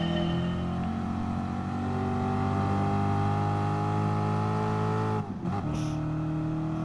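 A Chevrolet race car engine revs steadily in Gran Turismo Sport, a loud sustained drone with shifting pitch, briefly dipping near the end before picking back up.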